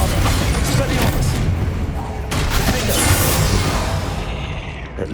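Confringo and Bombarda spell blasts in the Hogwarts Legacy video game, a dense run of loud booming explosions and crashes with a voice speaking among them.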